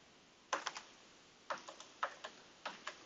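Numbers entered on a computer keyboard into a data column, four quick bursts of close, quiet key taps spaced about half a second apart in a silent room.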